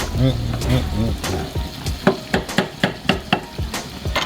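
Bacon fries in a pan with a bright sizzle, joined by a run of sharp, rhythmic knocks and taps from utensils against the pan, and a voice is briefly heard at the start.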